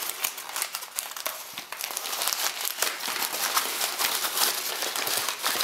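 A delivery packet holding locks and keys is torn open by hand, its plastic crinkling and crackling steadily and up close for several seconds, with no talking.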